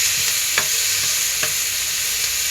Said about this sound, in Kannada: ಸೀದಾ ಹಾಗೆ ಫ್ರೈ ಮಾಡ್ಕೊತಾ ಇದ್ದೀನಿ.